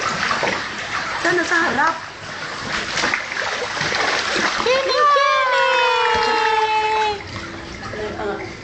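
A baby splashes and plays in a tub of water, with intermittent splashes and sloshing close by, while adults talk and a child babbles and squeals throughout.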